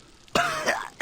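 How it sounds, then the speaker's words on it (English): A man gives a couple of short, harsh coughs up close in Gears of War, the second brief and sharp after a rough first one. "I'm coughing up blood that ain't mine."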